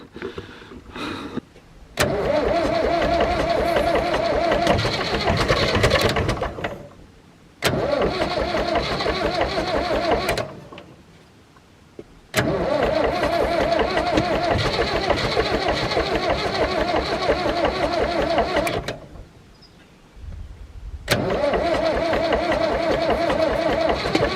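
A Case 1394 tractor engine, just fitted with a new oil filter, cranks in several long churning bursts separated by pauses, each grinding on for seconds, close and loud without catching and running.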